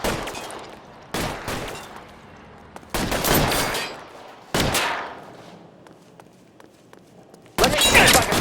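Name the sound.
gunfire in a shootout in the video game LA Noire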